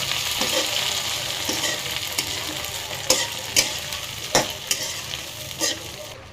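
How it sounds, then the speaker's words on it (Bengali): Prawns frying in a wok after onions have browned, a steady close sizzle with scattered sharp clicks and scrapes of stirring. "এখানে আমি চিংড়ি মাছটা কিছুক্ষণ ভেজে নেব।"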